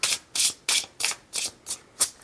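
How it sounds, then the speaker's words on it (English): Crisp, papery riffling bursts repeat about seven times in quick, regular succession, close up, as a deck of tarot cards is shuffled. "I'm also supposed to shuffle one more time"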